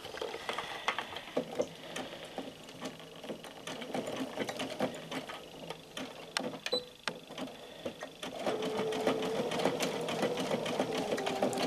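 A sewing machine stitches back and forth across a join on a martingale collar, giving a steady, rapid mechanical whirr with dense rhythmic clicking that grows louder and fuller toward the end, with no talking.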